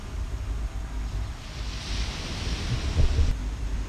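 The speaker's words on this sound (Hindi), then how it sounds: "लहरों का शोर, समुद्र इतना अच्छा लग रहा है" Ocean waves wash onto a beach in Bali in a steady broadband surf roar, with a swell building in the middle and wind buffeting the microphone.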